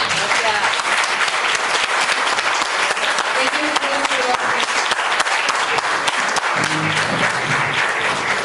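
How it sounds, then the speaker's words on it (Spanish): An audience at a transpersonal symposium round table in Barcelona claps in sustained, dense applause that stays loud and even from start to finish, with faint voices mixed in. "Un aplauso para ellos."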